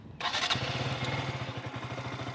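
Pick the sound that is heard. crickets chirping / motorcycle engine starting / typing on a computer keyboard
motorcycle engine starting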